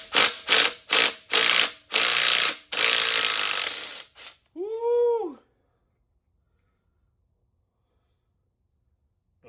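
Bolts being wrenched out of the 22R engine in a supercharged 1959 Nash Metropolitan build: a close run of rapid ratchet bursts in quick rhythm, then a short squealing creak, followed by silence.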